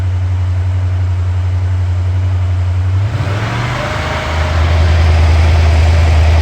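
A hydrogen-powered V8 engine runs steadily with a loud, deep droning hum that shifts and wavers briefly midway before settling back into an even idle.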